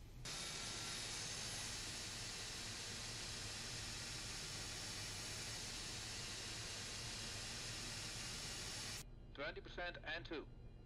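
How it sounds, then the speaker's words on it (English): Airliner jet engines spool up in a flight simulator, a steady, loud broadband roar and hiss holding for about nine seconds before cutting off, followed by brief talk. "let's start the engines"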